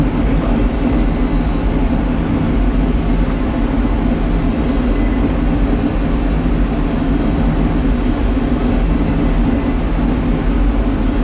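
Steady, loud, unbroken low roar fills an airplane cabin on landing approach with flaps extending, a constant engine and airflow drone with no talk heard.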